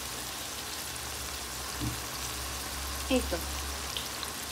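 Tripe with turmeric and coriander powder sizzles steadily in a pan, a continuous close frying hiss with a few faint stirring knocks and a brief voice.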